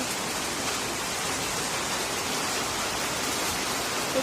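Rain falls steadily, making an even, soft, continuous hiss with no clear individual drops and no voices.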